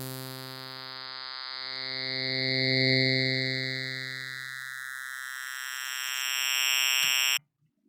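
A sustained, buzzy additive synthesizer tone with rich harmonics slowly shifting in timbre through crossfading, swelling and fading as it morphs, then cutting off abruptly near the end.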